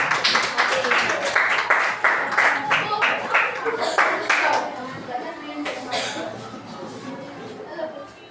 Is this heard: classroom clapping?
yes